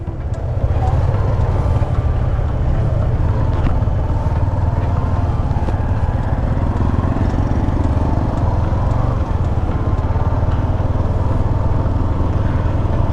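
A Suzuki motorcycle sets off on a ride, its engine a steady low drone buried under constant, heavy wind buffeting on the microphone.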